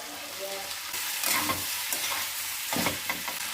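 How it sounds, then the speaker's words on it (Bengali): Vegetables and Malabar spinach are stir-fried with ground onion paste and spices for a rohu fish curry, a steady hissing sizzle punctuated by bursts of scraping and stirring, no speech. "বেটে রাখা পেঁয়াজ, মশলার সঙ্গে ভালোভাবে সবজিগুলো কষিয়ে নিয়ে"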